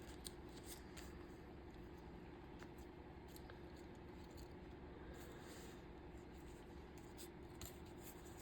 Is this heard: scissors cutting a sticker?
yes